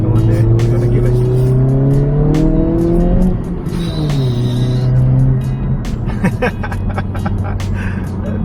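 A 2022 Honda Civic Si accelerates hard through a turn, its engine note climbing loudly, dropping at a shift, then rising again, with some tire noise and a voice talking over it.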